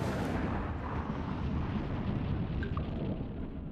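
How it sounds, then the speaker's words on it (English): Bombs explode in the strategy game The Universim as a dense, continuous deep rumble of blasts that barely lets up, loud and close, with no talk over it. "Bomb. Bomb."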